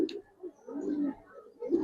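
A big black-necked Hammer-line pigeon coos in low, soft, repeated phrases close by, with a few brief pauses between the rolling calls.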